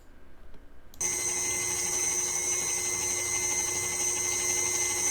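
A stand mixer kneads dinner roll dough with a dough hook, switching on abruptly after a quiet moment into a steady, close, high-pitched motor whine that continues unbroken.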